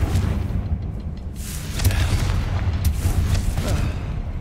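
Confringo fire spell exploding in Hogwarts Legacy, a series of deep booming blasts with crackling bursts over a rumbling low background, several impacts spread across the stretch.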